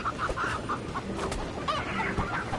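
Chickens cluck in a series of short, close, busy calls over a low background rumble while they are being lifted and moved.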